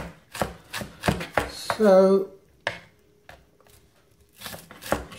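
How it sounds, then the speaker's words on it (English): A knife chops onions for Indian restaurant-style Bombay aloo in a quick run of crisp, close strikes on a board. A brief spoken word follows, then a few scattered chops. "chop all the onions up nicely"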